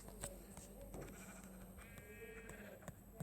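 Faint synthetic sheep bleats in Minecraft sound over a busy game soundscape with ticks and clicks, and a voice speaks briefly.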